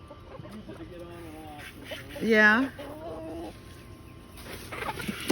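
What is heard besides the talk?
chickens clucking in the coop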